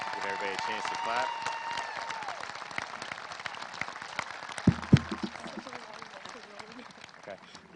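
Sustained audience applause filling a 2021 Sparta High School graduation ceremony, steady dense clapping from a large crowd with a few sharp louder claps near the middle, gradually tapering toward the end.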